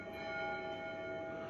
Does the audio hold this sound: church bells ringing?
yes